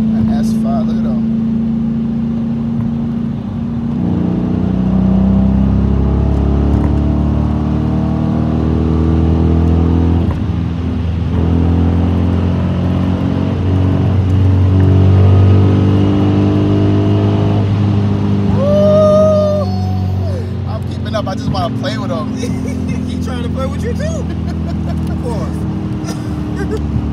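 An Audi S5 car accelerates and revs, with a low engine drone rising and falling through gear changes under lively talk from people inside the car.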